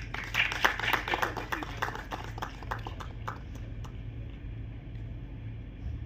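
Audience applause at a stage cultural event, with brisk clapping that fades into a low hum and scattered claps, heard from within the hall.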